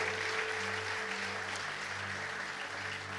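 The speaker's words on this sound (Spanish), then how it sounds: "Un fuerte aplauso para los dos, por favor." Steady applause from an audience, a dense wash of clapping holding at an even level throughout, with a low hum underneath.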